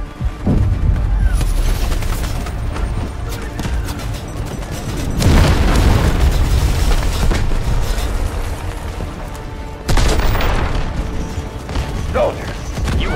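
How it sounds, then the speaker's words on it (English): Artillery strike explosions rumble through a tactical shooter video game, Delta Force, as dense, heavy booms and crackling debris with louder surges partway through and again later, over a continuous low roar of battle. "Cruise missiles inbound. Targets will be neutralized. Artillery cover coming."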